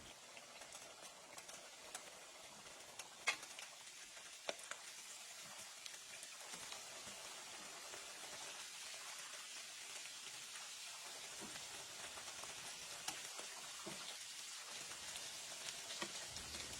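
Chicken wings fry in hot oil in a frying pan, a faint, even crackle like light rain that holds steady throughout with occasional sharper pops and no voices.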